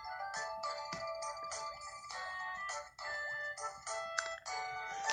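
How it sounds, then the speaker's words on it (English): Repeated phone notification chimes play in a rapid string of bright electronic tones, with short gaps between them, alone and fairly loud throughout. "I'm getting so many notifications."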